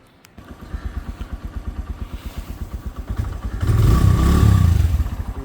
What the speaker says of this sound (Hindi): अपने बाइक को स्टार्ट करते हैं और निकलते हैं ऑफिस